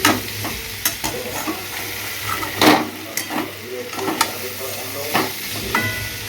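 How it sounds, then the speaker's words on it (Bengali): Teasel gourd (kakrol) and potato frying in a little oil in a covered pan, with soft irregular sizzling and a few stirring scrapes and clinks close by. "অল্প তেলে তো একটু ঢেকে ঢেকে ভাজতে হয়"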